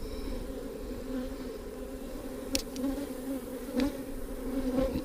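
Honey bees buzz in a steady, low drone during a beehive inspection, fairly close with a few brief louder passes of individual bees over the continuous hum.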